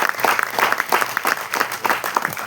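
An audience at a film music and trailer launch event claps in appreciation for a mother-in-law, with crisp individual hand claps standing out in an uneven, lively burst of applause.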